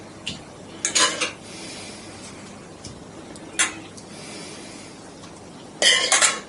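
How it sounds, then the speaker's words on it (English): A spoon scrapes and clinks as chicken sauce filling goes into a pie dish, in a few short bursts of metal on dish separated by quiet pauses. "So now I'm going to put it into a pie dish."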